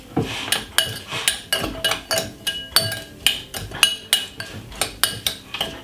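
A teaspoon works sugar into cut strawberries in a bowl, giving a steady run of about a dozen sharp metallic clinks and taps in a loose rhythm, close and fairly loud, with no talking.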